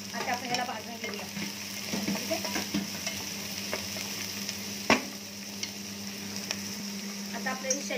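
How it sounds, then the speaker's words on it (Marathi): Vegetables frying and sizzling in a pan for paneer chilli, a steady hiss with occasional stirring scrapes and small clatters, close and moderately loud. "आता आपण ह्याला भाजून घेऊया"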